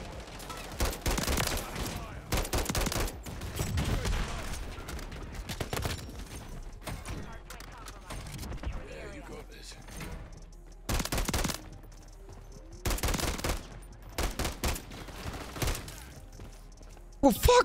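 An SVA 545 rifle in Modern Warfare 3, set to semi-automatic, fires in repeated dense bursts of quick shots. The bursts are spaced apart by quieter gaps and sound loud and close.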